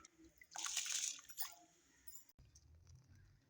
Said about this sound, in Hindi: पानी पक रहा है तो अब हम चावलों को बॉईल कर लेंगे